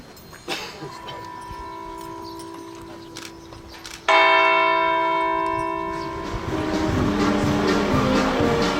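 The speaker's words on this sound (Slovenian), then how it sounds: "z veseljem pritrkaval na ta kranjski zvon" Bronze church bells at St. Joseph's church in Huje, Kranj, chimed by hand in the Slovenian pritrkavanje style. Steady ringing tones sound first, then a louder, denser burst of bell strikes that overlaps with crowd noise.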